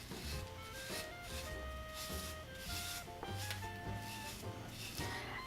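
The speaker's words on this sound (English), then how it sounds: "So I take my smoothing brush" A smoothing brush sweeps through hair in repeated soft, scratchy strokes, a close, quiet rhythmic rubbing with faint background tones underneath.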